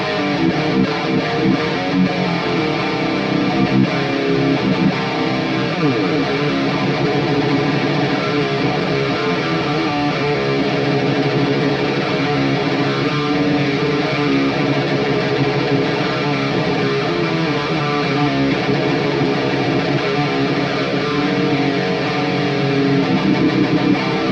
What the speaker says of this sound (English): by delaying the signal to one of those cabinets just a little bit, it really helps thicken up your tone